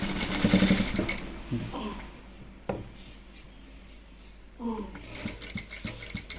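A sewing machine stitches a puff sleeve blouse in short whirring runs at the start and the end, with someone talking during the gap and over the stitching.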